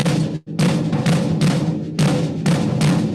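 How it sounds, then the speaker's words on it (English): A bambula rhythm played on a full drum set, with dense, driving hits and sustained cymbal wash forming a loud continuous groove, broken by one brief gap near the start. "When it took that bambula rhythm and it made its way onto the drum set, it sounded like this."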